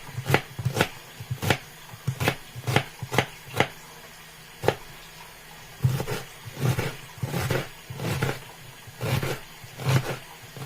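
A knife chops onions very small, striking the board in crisp, close, fairly regular bursts of about twenty blows, with short pauses between runs.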